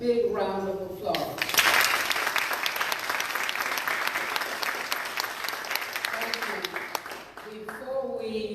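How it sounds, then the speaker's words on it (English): A forum audience claps for the panelists in a sustained, dense round of applause that lasts several seconds, with a voice speaking over the opening and the fading end. "a big round of applause"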